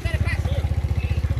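A motorcycle engine thumps in a fast, even pulsing rhythm close by, loud and continuous over about a second and a half, with faint voices mixed in.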